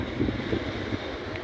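Wind and ocean waves on a beach at Los Cristianos, Tenerife, a steady low rush of surf with buffeting wind noise on the microphone, continuous and fairly loud.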